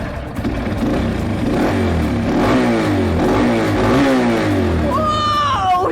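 Motorcycle engine revved with the throttle, rising and falling in loud close surges that end in a high whining climb.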